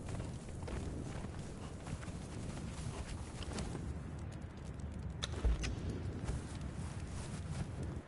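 Faint horse hooves clop steadily under wind and ambient rustle as a horse is ridden at a walk in Conan Exiles, with soft scattered clicks and a duller thud midway.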